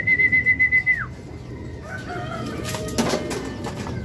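Racing pigeon Grizzle arriving at the loft landing board, with a burst of rhythmic wing flaps and a whistling tone, then settling amid soft cooing and shuffling nearby.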